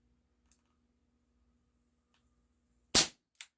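A Cybergun Baby Eagle airsoft pistol fires a single sharp, close crack, followed moments later by a softer click, with near silence before it.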